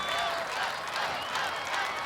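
At the American Ninja Warrior national finals in Las Vegas, a large arena crowd cheers and applauds loudly and continuously, a dense roar of clapping and voices.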